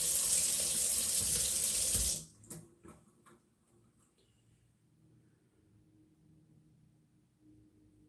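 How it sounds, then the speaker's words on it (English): Tap water runs loudly into a sink for about two seconds while seeds are rinsed out of a hollowed garden pepper, then cuts off, leaving faint clicks and handling noises in a quiet room. "so then you have to rinse that out"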